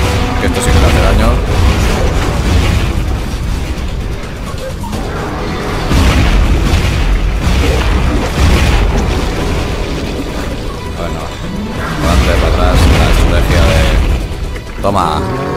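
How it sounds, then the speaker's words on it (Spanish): Missiles fired at the final boss in the Zombie Driver video game explode in repeated loud booming bursts that swell and fade every few seconds over a dense, continuous layer of game noise. "Vamos a meterle con los misiles. Que esto sí que le hace daño."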